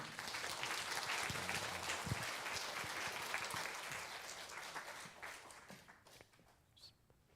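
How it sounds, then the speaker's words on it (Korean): A congregation claps warmly to welcome a professor to the front during a church anniversary revival service, the applause loud and full at first, then thinning and fading away over several seconds with a few stray claps and footsteps. "우리 교수님 나오실 때 우리 큰 박수로 환영하도록 하겠습니다"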